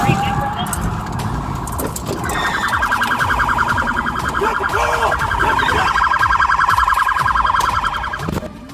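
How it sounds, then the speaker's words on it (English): A loud, rapidly warbling electronic police siren wails continuously at close range during a high-speed chase, rising in intensity and persisting throughout. "forcing police to activate lights and sirens"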